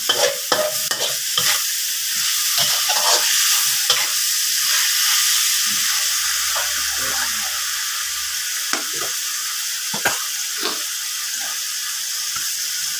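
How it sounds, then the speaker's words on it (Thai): Chicken with fresh bird's eye chilies, bell pepper, long beans and onion being stir-fried in a pan: a steady close sizzle runs throughout, broken by scraping strokes and knocks of the spatula against the pan, with no talking. "ผัดมันเข้ากันให้ดีก่อน"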